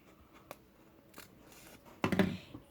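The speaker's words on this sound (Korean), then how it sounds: "다음은 원하는 만큼 길이로 잘라주세요" Scissors cut origami paper for a folded paper deer, with a couple of faint isolated snips followed by a louder, close crunching cut near the end, no voices.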